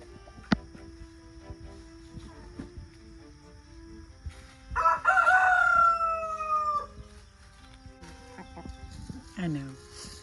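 Backyard chickens released into a garden cluck and murmur softly, with a louder burst of squawking cackles in the middle, followed by quieter clucks and a voice speaking gently over them.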